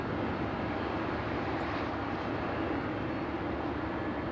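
A jet airliner on approach into LAX, arriving in light easterly wind: a steady, broad engine roar that holds at even loudness throughout, with no voices.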